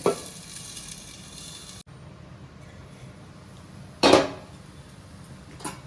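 Ghee sizzling on a ragi roti cooking on a griddle, a soft steady frying hiss broken by a few sharp metallic clatters of a lid or utensil.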